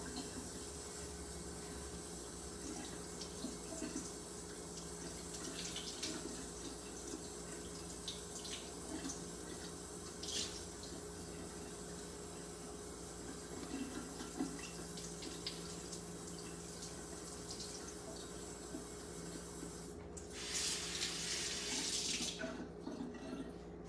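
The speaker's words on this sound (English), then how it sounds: "So I'm washing the fish, taking out the fins." Tap water runs steadily into a kitchen sink while fish is rinsed and its fins are removed, a continuous faint hiss with small splashes. A brief louder gush comes near the end.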